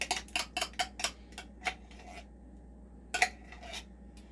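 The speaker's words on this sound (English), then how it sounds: "We'll get the cream of mushroom soup in." Cream of mushroom soup goes into a pan of mayonnaise and other wet ingredients for a broccoli and cheese casserole, with a run of sharp metal utensil clinks and scrapes against the can and dish, then a short pause and a few more taps.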